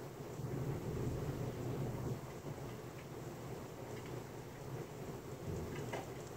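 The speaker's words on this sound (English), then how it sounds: "It is raining so hard outside." Heavy rain pours steadily outside with a low rolling rumble of thunder, a dense continuous wash of noise with no voices.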